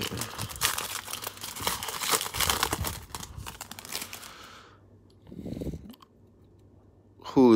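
A 2015 Panini Contenders football card pack is torn open and its foil wrapper crinkled, giving bursts of loud crumpling and tearing, then quieter rustles and a final sharp crackle, with someone speaking briefly.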